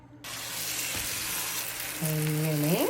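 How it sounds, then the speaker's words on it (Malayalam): Egg omelette, Spanish-style, frying in coconut oil in a pan after being flipped to cook the other side: a steady, even sizzle throughout, with a brief clatter and a rising tonal squeak near the end. "നമുക്ക് നമ്മുടെ മുട്ട വീണ്ടും അതിലേക്ക് മറ്റേ സൈഡിൽ നിന്ന് വേവാൻ വേണ്ടി ഇട്ട് കൊടുക്കാവേ"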